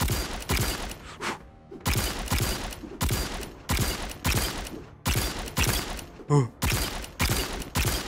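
Rapid bursts of video-game gunfire in Rec Room come in repeated volleys separated by short pauses, loud and close, with a brief exclamation from a player.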